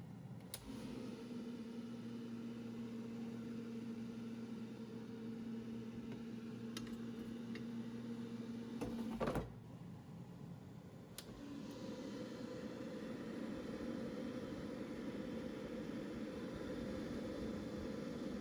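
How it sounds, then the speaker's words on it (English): An air fryer cooking a mug cake at 390°F, its fan giving off a steady, faint hum with a low tonal drone. The drone drops away after a brief knock partway through, and a softer broadband whir carries on afterward. "So for the air fryer, 390 degrees Fahrenheit. So I will fry it for 4 minutes and check the texture."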